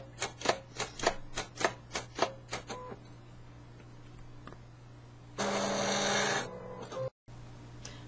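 A mini Munbyn cutting machine cuts embroidery applique pieces, starting with a quick run of sharp rhythmic clicks and ticks, then a quieter stretch, then a loud steady whirring burst near the end.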